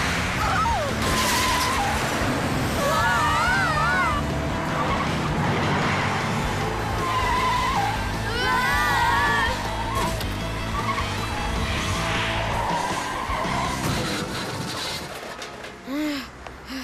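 Cartoon car skidding, with repeated high tire squeals and whooshes over a busy music and effects bed, loud and dramatic and fading near the end, while voices cry out.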